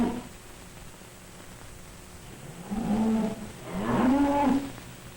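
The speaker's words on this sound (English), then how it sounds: "Father is feeding the milk cows." Milk cows lowing inside a barn during winter feeding, two drawn-out moos close by, the second louder and longer, over a quiet rustling background.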